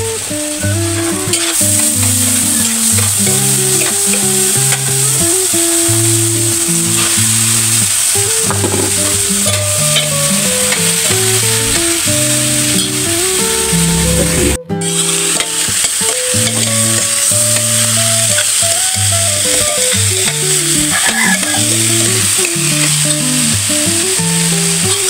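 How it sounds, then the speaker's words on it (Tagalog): Meat sautéing in oil with aromatics in a home kitchen, a steady loud sizzle with stirring scrapes throughout, joined by a strong steady hum or music-like tones running underneath. "Nagigisa lang natin itong ating karne dito sa ating mga ricado hanggang sa magmamantika talaga siya."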